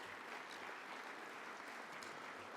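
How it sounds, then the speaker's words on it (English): Applause from a seated crowd at a luncheon, a steady, even wash of many hands clapping at moderate level with no voices over it. "how about joining me in a round of applause to welcome the students and thank their sponsors?"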